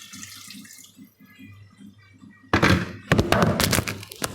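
Water from a kettle pours into a pan of eggplant moussaka, a sudden loud splashing, gushing stream after a quieter stretch of low kitchen hum, with a few knocks as the kettle moves.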